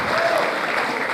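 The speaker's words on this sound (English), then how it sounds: "Can we give a round of applause?" Applause at a medical and dental graduating class induction ceremony, a full, continuous roar of clapping from a large audience, loud and steady throughout.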